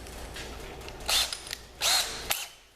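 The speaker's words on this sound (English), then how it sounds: "I'm going to change over to my 3/8 drill bit" A power drill fitted with a 3/8 inch bit whirs in two short bursts over a faint background hum, each run lasting under half a second, with a sharp click just after.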